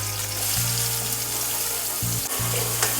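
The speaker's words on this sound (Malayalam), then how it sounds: "എണ്ണ ചൂടായി. അപ്പം നമുക്ക് ഇതിലേക്ക് സവാള ആദ്യം ഇടാം." Sliced onion sizzling and frying in hot oil in a home kitchen pan, a steady close hiss throughout with faint stirring scrapes.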